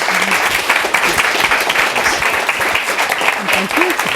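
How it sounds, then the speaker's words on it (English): An audience at a televised debate on marriage applauding the guests, a dense, steady wash of clapping that fills the room throughout. "Let's give a big round of applause for both our guests."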